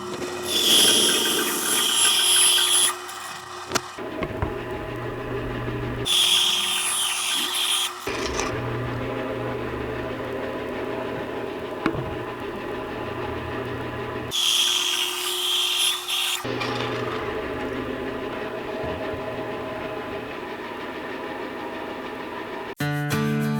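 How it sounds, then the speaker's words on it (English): A bandsaw cuts wood for shop-made sanding board handles, its steady motor hum broken by several rasping cutting passes of a few seconds each, with the blade noise shifting as the cuts start and stop. "Now here at the bandsaw, I'm going to cut along these lines that I drew out to the hole"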